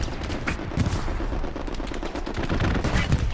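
Sustained gunfire from an aircraft strafing run in the World War II shooter Hell Let Loose, on the Pierre's Farm map: dense, loud, continuous bursts of rapid shots that pound on without a break throughout.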